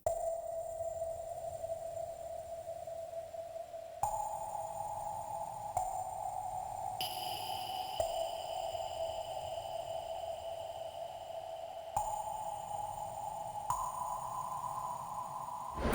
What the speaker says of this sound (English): I have this playing the fifths of our root note of our guitar melody